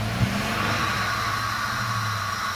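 A 1997 Dodge Caravan engine running after an electrical contact repair, a steady low idle hum with a brief bump at the start, close by and alone.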